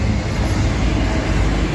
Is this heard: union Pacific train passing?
yes